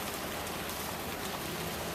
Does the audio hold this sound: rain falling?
yes